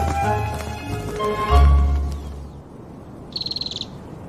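An owl calls once in the wild, a short series of rapid hoots near the end, following louder mixed outdoor sounds and a low rumble earlier on.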